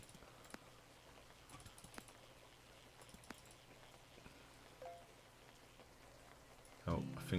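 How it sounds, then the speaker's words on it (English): Steady rainfall patters softly in a video game fishing scene, a faint continuous hiss with scattered sharper drops, ending in a louder burst of other game sounds. "Oh, I think the rain's about to end."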